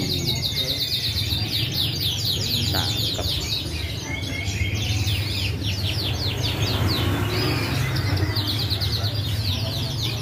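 A Scotch Fancy canary sings steadily with rapid trilling chirps and warbles, loud and continuous in a bird shop, over a low background hum and murmur of other birds.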